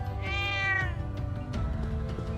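A cat in the Trails of Cold Steel II game gives a single drawn-out meow, clear and fairly close, over a soft background of game music.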